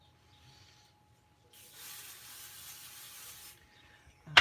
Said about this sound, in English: I am going to quick throw some pixie spray on it so it sticks down.